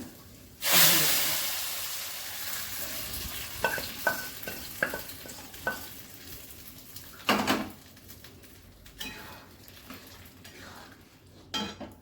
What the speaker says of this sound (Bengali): আদাটা হয়ে গেছে ভাজা এবার এটা আমি ডালের মধ্যে